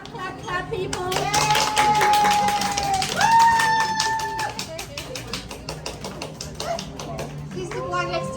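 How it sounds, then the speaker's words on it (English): Guests at a baby shower clap in rapid, uneven bursts near the microphone while a voice holds a long sung note, with children chattering and the clapping thinning toward the end. "Clap, clap, people."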